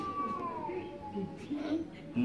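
A person imitates a cat with a drawn-out, sliding meow, followed by further short mewing sounds mixed with spoken French, all close and moderately loud.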